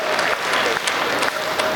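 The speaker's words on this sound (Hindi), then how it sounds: "एक बार तालियां बजाओ" An audience at a comic poetry show claps in sustained, dense applause, loud and continuous throughout.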